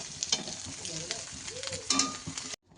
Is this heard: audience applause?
no